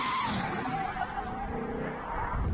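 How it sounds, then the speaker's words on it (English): A Ford GT40 race car with a 7-litre V8 launches from the start line at a hillclimb event. Its engine roars with tire noise, slightly distant, over about two and a half seconds. "James Temple runs up to the start line in the GT40."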